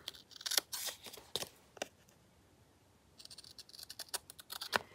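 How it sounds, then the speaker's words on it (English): Scissors snipping through paper while trimming a piece to size for a collage, a few quick crisp cuts in short bursts with brief pauses between, close and fairly quiet. "I'll just cut it to size, and then I'll just tear out a piece to put on the back"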